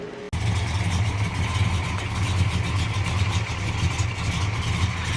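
A 1969 Dodge Charger engine catching and settling into a steady, rumbling idle, loud and close, with a low throbbing pulse running throughout and no talk.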